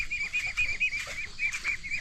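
A group of ducks calls in repeated nasal, honking quacks, loud and close, with the calls overlapping in an uneven rhythm and no talk over them.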